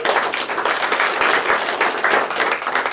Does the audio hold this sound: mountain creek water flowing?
no